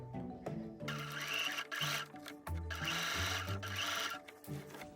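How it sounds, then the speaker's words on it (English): A sewing machine stitches down the placket edge of a dress in short, close whirring runs, stopping briefly between bursts. "bump my needle over 2 spaces, and that will ensure that I get nice and close, but I sew that edge down"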